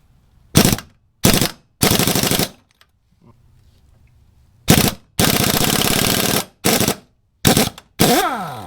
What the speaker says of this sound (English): Make sure you have a wrench on your bolt, and then use your impact on the nut.